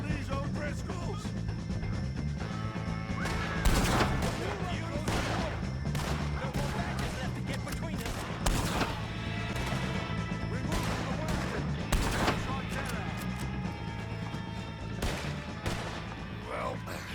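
Gunfire from a shootout against O'Driscoll gang members in Red Dead Redemption 2, with repeated loud shots cracking over a dense game soundscape and voices speaking amid the battle.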